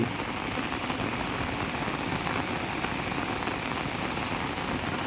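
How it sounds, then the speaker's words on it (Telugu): A waterfall at Penchalakona in Rapur, Nellore district, running in flood after two days of rain, makes a steady, dense, broadband roar of rushing water that holds constant with no pauses. "రెండు రోజులుగా కురుస్తున్నటువంటి వర్షాలకు జలపాతం కనువిందు చేస్తూ ఉంది"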